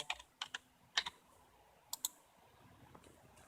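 A password being typed on the keyboard of a book vending machine: quiet, scattered key clicks in small clusters with short pauses, close by and soft.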